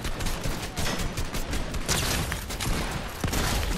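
Shotgun fire in a shooter video game, a weapon that reloads two shells at a time, heard as a dense, loud stretch of rapid overlapping shots and blasts that continues without pause.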